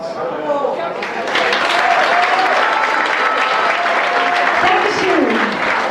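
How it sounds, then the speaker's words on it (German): Loud, sustained applause from a gala concert audience fills the hall, steady and dense, while someone talks over the clapping throughout. "Ja, ein Applaus."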